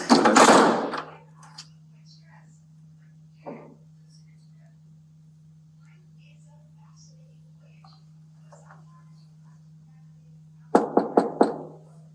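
A police officer knocks on an apartment door during a welfare check, a quick burst of three or four sharp raps near the end after a long hum-filled quiet, with a soft thump earlier.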